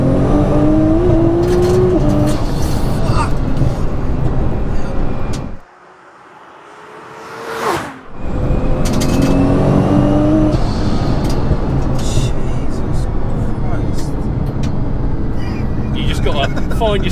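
An 1100bhp Nissan GT-R accelerates hard on a public road, its loud engine roaring through rising gear pulls, with a brief near-silent gap before the roar resumes. Occupants talk over the engine noise inside the car.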